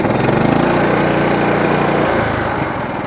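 A Kohler 16HP engine on a John Deere LT160 riding mower, freshly fitted with a new fuel pump, fires up and settles into a loud, steady running drone that eases slightly near the end, with no voices.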